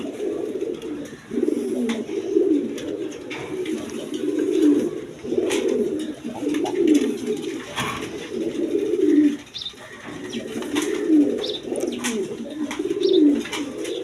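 Pigeons coo in repeated low, throaty phrases close by, with short breaks between calls and occasional faint rustling.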